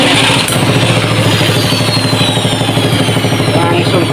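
A small water pump engine converted to run on LPG cooking gas idles steadily close by, a dense rhythmic chugging that holds loud and even throughout.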